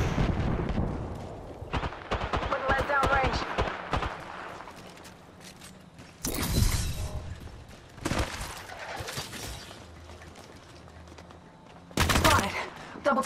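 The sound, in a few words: gunfire in the video game Apex Legends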